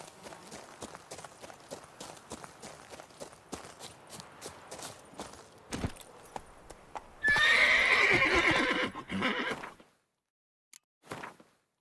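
Roach, the horse in The Witcher 3 video game, gallops with steady rapid hoofbeats, then lets out a loud close neigh, followed by a short pause and a brief final snort or hoof sound.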